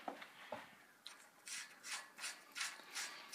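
A bolt on a lightweight tripod projection-screen truss frame is tightened with a ratcheting tool into a nut welded to the frame. It gives a run of quick, fairly close ratchet clicks in regular bursts, with no one speaking.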